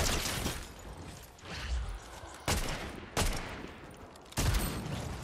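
Several loud gunshots ring out in Fortnite, spaced irregularly a second or so apart, each a sharp crack with a short tail over a low background rumble.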